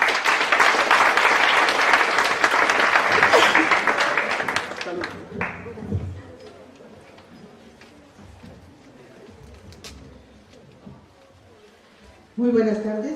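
Loud applause at a university faculty panel event fills the first five seconds, then fades into quiet room murmur, with a brief burst of clapping returning near the end.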